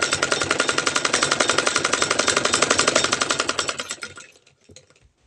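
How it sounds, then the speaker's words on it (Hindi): A sewing machine runs a straight seam along a salwar, its needle hammering in a steady fast rhythm, close and loud, before slowing and stopping near the end. "यहाँ से अब हम सीधी सिलाई पीछे तक ले चलेंगे।"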